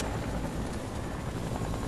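A helicopter in the video game Fortnite thrums steadily and loudly throughout, a continuous close rotor roar with no talk over it.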